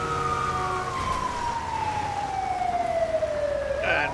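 An ambulance siren in the GTA 5 video game wails in one long descending sweep, loud and close over a steady engine and road rumble in wet early-morning weather, with no talk.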